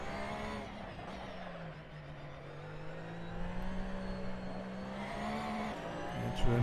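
A race car engine in the Assetto Corsa racing game on PS4 drones steadily and then climbs under full throttle on the Barcelona circuit, with a sharp transient near the end.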